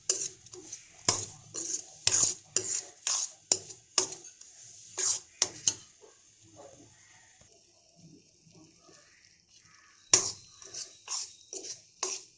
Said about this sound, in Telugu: గోల్డెన్ బ్రౌన్ కలర్ వచ్చే వరకు ఫ్రై చేసుకోవాలి.